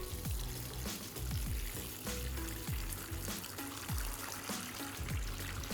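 Water pouring and splashing into a container to submerge a Realme 3 Pro phone for a water resistance test, a steady close trickle and gush with no talk, alongside a recurring low thumping music beat.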